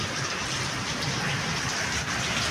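Heavy rain pours down steadily in a dense, continuous hiss, loud and close, with no voices over it.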